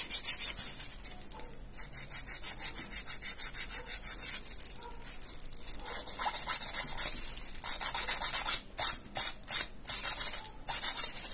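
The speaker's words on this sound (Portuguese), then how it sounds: "A gente vai fazer o nosso lixamento mínimo." A nail file rasps back and forth over a polygel nail in steady, close, scratchy strokes that speed into quick separate passes near the end, with no voice.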